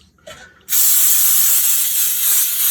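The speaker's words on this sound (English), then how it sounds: "I'm just going to spray it down." Flour-containing cooking spray is sprayed onto a baking pan: after a faint click, a loud, close, steady aerosol hiss starts and runs continuously to the end, with no talk over it.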